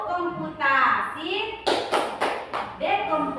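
Primary school class in Indonesia performs a clap chant, a teacher's voice and children's voices alternating with a burst of four or five sharp, evenly spaced group claps in the middle, close and loud.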